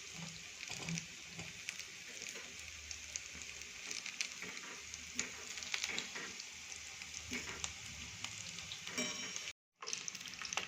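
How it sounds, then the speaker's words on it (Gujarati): Kadhi pakoras frying in hot oil give a continuous close sizzle with fine crackling and popping, steady for several seconds with no talk, broken by one brief silent gap near the end. "નીચેથી સરસ થોડી ફ્રાય થાય એટલે આપણે આને પલટાવી દઈશું"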